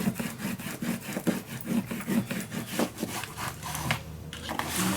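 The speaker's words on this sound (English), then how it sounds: "There we go, burnish it down." Paper for a scrapbook folio is burnished down with quick, repeated rubbing strokes, a rhythmic scratchy friction close up and continuous, with no talk.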